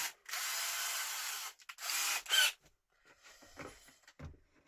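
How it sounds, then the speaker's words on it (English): A power drill whirs steadily for over a second while drilling a part for a speaker crossover, stops, then runs again in a shorter burst, followed by quiet scraping and handling sounds. "let's just drill this one out now"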